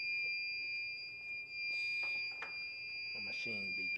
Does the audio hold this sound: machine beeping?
yes